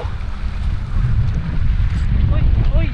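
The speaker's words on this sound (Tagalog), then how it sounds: "Humangin na ulit siya oh" Wind gusting steadily across a microphone on a small fishing boat at sea, a loud low rumbling roar that swells and stays constant, with faint water sounds underneath.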